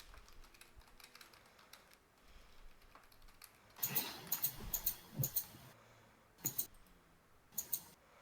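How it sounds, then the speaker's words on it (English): Sharp, dry clicks come in quick clusters in a video game, faint ticking at first, then louder rapid bursts with short gaps between them. "I hear a lot of clicking."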